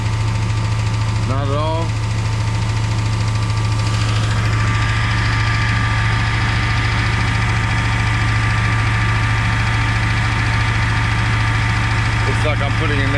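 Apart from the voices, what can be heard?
car engine revving as gas pedal is pressed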